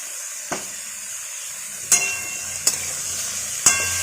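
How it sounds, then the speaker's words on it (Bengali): Cucumber and prawn curry with salt being stirred in a pan: a low steady sizzle with a few sharp spatula scrapes and clacks against the pan, spaced irregularly and heard up close. "আবার আমরা খুব ভালো করে এটাকে নাড়াচাড়া করে নিচ্ছি"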